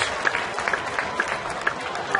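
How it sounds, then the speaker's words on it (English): A baseball crowd at a Cleveland at Pittsburgh game cheers and claps after a strikeout, a steady dense roar of applause and voices with scattered whistles, heard from within the stands. "Crowd's going to go crazy"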